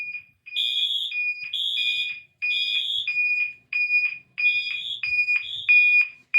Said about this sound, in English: Wheelock MT is on code 3 horn.